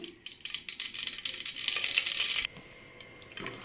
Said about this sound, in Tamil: நமக்கு நெய்யும் எண்ணெயும் சேர்த்தாச்சு நமக்கு எண்ணெய் நல்லா ஹீட் ஆயிடுச்சு